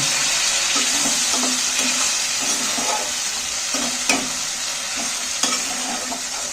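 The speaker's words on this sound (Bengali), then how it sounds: "মশলাটা আবারও আমি কষে নিচ্ছি" Thick spice paste for steamed egg curry sizzling and spattering in a hot pan with a splash of water, occasional scraping stirs and soft clinks, no voices.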